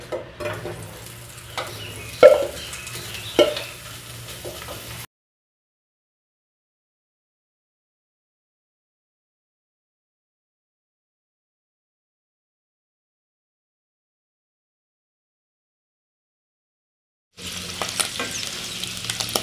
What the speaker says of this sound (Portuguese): aqui eu coloquei a carne seca pra fritar. Ela tá dando uma fritadinha